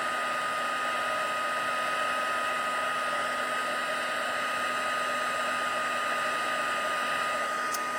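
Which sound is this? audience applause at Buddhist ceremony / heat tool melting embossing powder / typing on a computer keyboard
heat tool melting embossing powder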